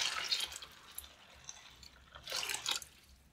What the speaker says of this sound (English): All we need to do is I'm going to put some water.